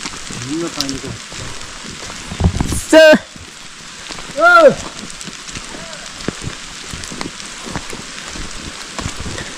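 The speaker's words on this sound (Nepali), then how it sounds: "अहिले पानी परिरहेको छ यहाँ" Rain patters steadily through the jungle during a fiddlehead hunt, a constant hiss of drops, with people talking and a couple of loud rising tonal calls cutting through midway.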